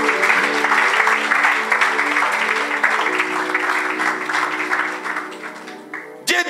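A church congregation applauds and cheers in acclaim of Jesus, loud sustained clapping and voices filling the hall for several seconds before stopping abruptly.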